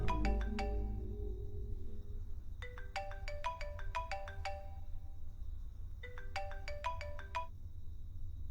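A telephone ringtone plays in three bursts of quick, bright melodic notes separated by short pauses, clear and close over a low steady background rumble, with no one talking.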